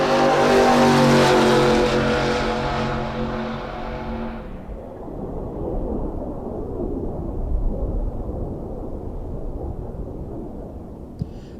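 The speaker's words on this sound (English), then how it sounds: "I believe that was the last pro car to go down the track" A pro drag race car at the Spring Fling Million 2021 roars loud and harmonic-rich in a near full-throttle blast for about four seconds, then cuts to a lower, rumbling fade as it continues down the track, with no talk.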